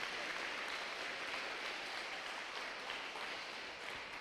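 Steady applause from an audience at a Black History celebration fills the space without pause, a dense even wash of clapping at moderate distance.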